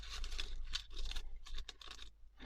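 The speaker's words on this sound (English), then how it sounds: "I look where my scissors are against the edge of the bag." Scissors cut through a paper bag while a junk journal is being made, giving close, crisp snipping and crinkling bursts in an irregular rhythm with short pauses, heard alone without talking.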